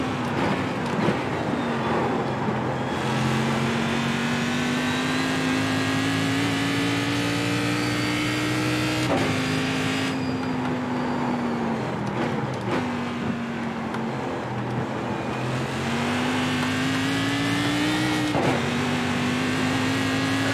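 Cadillac CTS-V race car in iRacing at Bathurst, its engine droning loud and steady with rising revs through each gear, brief lifts and upshifts breaking the note every few seconds, no talk over it.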